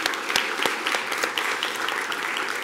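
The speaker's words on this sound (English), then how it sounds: "one more round of applause for this great group" An audience at a school board meeting applauds the district's track team, a full, sustained round of clapping with a few sharper individual claps standing out near the start.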